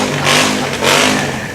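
A motorcycle engine revs in two loud surges on a Christmas parade route, with a steady rumbling idle in between and the broad roar of the street crowd beneath it.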